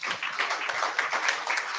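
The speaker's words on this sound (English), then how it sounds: "Please clap for me now." Audience clapping at a talk on relevance in the global economy, a continuous patter of many hands that stays fairly steady and moderately loud for about two seconds with no voices over it.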